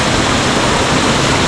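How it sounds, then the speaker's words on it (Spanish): A waterfall at the abandoned Montejaque dam project roars close by, a steady, loud broadband rush with no pauses. "tengo que superar la cascada."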